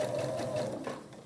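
A sewing machine stitches small strips for a double nine-patch quilt block: a close, steady mechanical whir with a rapid needle rhythm, alone and without talk.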